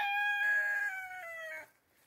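A free-ranging homestead rooster crows once nearby, a loud drawn-out call that tails off into quiet.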